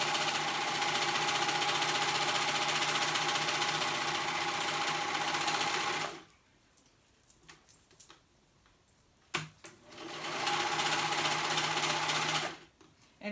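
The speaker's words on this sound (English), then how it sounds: "I'm just sewing around the whole pocket." A sewing machine whirs loudly and steadily, stops for a few seconds of quiet shuffling, then runs again in a second steady burst.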